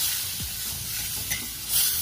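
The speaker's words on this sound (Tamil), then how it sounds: "மிளகாய்த்தூள், கரம் மசாலா, உப்பு, இது எல்லாமே சேர்த்து நல்லா எண்ணெயில வறுத்துருங்க" Chilli powder, garam masala and salt fry in oil for a soya chunk dish, with a steady close sizzle and the scrape of stirring, no voices.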